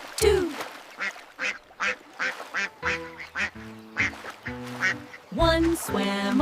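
Cartoonish duck quacks in a children's nursery rhyme about five little colorful ducks by a lake, a string of short rhythmic quacks set against sung music and a bouncy melody.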